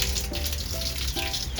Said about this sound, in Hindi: ऑन करो टैप।